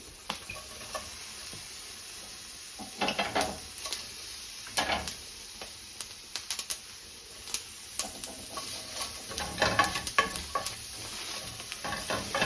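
Potatoes and black beans cook in a dry skillet with no oil, giving a soft, steady sizzle broken by scraping stirs and light clacks of a utensil against the pan.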